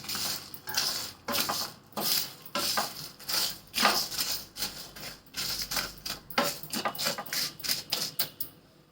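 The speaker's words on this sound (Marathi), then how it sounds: "आता हा मसाला एका प्लेटमध्ये काढून घेते" Dry biryani masala scraped and tipped onto a plate, with repeated close clinks and scraping taps of a spoon against metal in an uneven rhythm.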